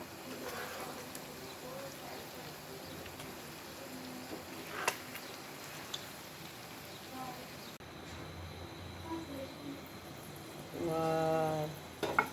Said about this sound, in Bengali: এভাবে আস্তে আস্তে লাল লাল করে ভেজে নেবেন